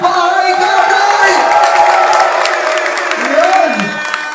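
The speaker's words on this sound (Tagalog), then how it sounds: "aking pong hinihingi malakas na palapakan at sigawan ng bahay katay" A loud crowd cheers, whoops and applauds at a rap song competition, a dense continuous roar of voices and clapping sustained throughout.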